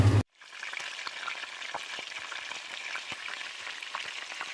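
Mixed ground spices (turmeric, coriander, cumin) paste sizzling in a hot pan, a steady close frying crackle with scattered pops after a brief loud bump at the start, no talk.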